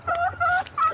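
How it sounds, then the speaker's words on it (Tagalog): Short, close clucking calls from a flock of chickens on a farm planted with bananas, three quick vocal bursts over a faint low background. "ang daming manok dyan"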